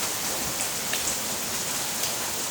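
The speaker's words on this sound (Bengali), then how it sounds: "এখনও মুষলধারে বৃষ্টি চলছে" Heavy downpour from Cyclone Remal pours as a dense, even roar of rainfall on surfaces, steady and close for the whole stretch with occasional brighter drop splats and no voices.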